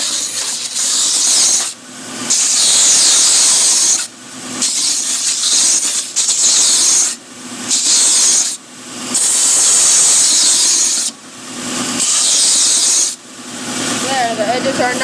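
A power sander works the edges of a wooden puzzle in loud, repeated passes of harsh hissing grind, each lasting a second or two and separated by short pauses, close to the mic.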